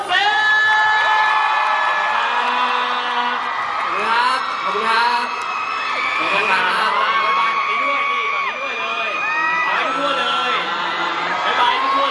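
A lively crowd at a street busking performance in Thailand whoops, yells and cheers loudly and continuously, with excited voices and shouts overlapping throughout.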